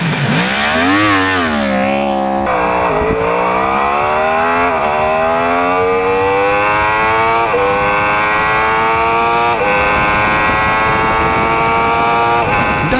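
A Yamaha R1 sport motorcycle engine revs hard at full throttle, pitch climbing steeply through several gear changes, loud and close, with a steady roar throughout.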